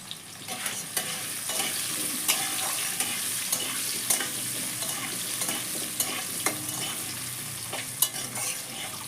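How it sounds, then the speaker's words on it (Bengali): Diced potatoes fry in a pan with turmeric for a stuffed egg omelette curry, giving a steady close sizzle with scattered stirring scrapes and clicks throughout, no talking. "আলুটাকে সুন্দরভাবে লাল লাল করে একটু ভেজে নেব।"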